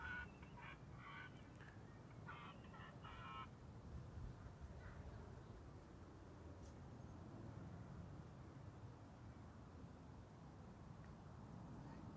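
Bird-control sound effects at a Schiphol Airport runway play distant, repeated caw-like bird calls in short bursts over a constant low rumble of wind and airport noise, faint and far off.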